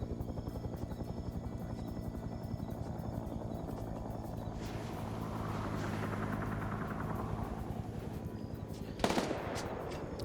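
Helicopters land amid gunfire in an Arma Vietnam PvP match (video game): a continuous rotor thump runs throughout, mixed with bursts of rapid machine-gun fire and a sharp, loud crack near the end, with no talk.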